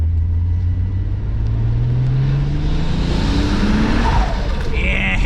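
A turbocharged VW MK3 VR6 drives through a tunnel, its engine note climbing steadily in a loud, close rising sweep, with reverberant roar and a hissing turbo whoosh near the end.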